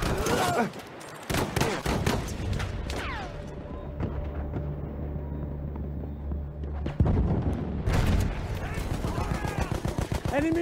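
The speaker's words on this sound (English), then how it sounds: "Enemy machine gun!" Bursts of rapid gunfire in Battlefield 1 crackle at the start and end, separated by a quieter stretch of low droning battlefield noise. Sharp shots stand out near and loud against the rumbling game soundscape.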